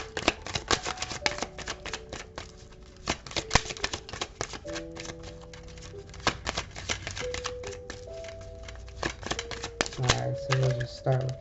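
Tarot cards are shuffled by hand in a quick series of crisp riffling clicks and flutters, with soft music tones and a voice talking alongside.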